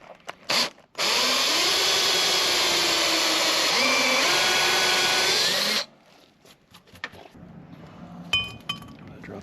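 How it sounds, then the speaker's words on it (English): A power drill counterbores a rivet hole in a brake drum on a 94-year-old Ford Model A, a loud, steady whine for about five seconds with a slight pitch shift, bracketed by metallic clinks and handling noises. "Now we're going to take and counter bore it so the rivet will drop down in"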